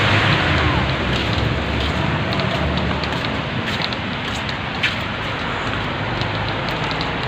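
Steady rain pours outdoors in Qatar, a dense continuous hiss of drops on surfaces that holds at an even, close, fairly loud level throughout with no voices.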